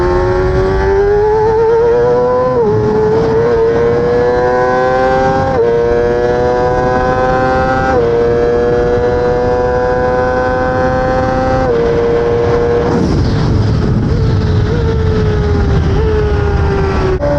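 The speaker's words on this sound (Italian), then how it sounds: "è incredibile quanto urli sta moto!" A Yamaha R6-style sport motorcycle engine screams loud and close at very high revs, its sharp tone climbing and holding through repeated pulls, with brief dips between gear changes.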